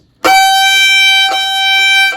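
A single bowed violin G natural sounds loud and steady, held for about two seconds with a slight bow change midway.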